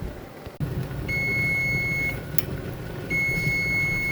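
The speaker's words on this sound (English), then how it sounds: "there's our timer" A kitchen timer beeps twice in steady high-pitched bursts, about a second each, over a low background hum in a kitchen where jars sit in a boiling water bath.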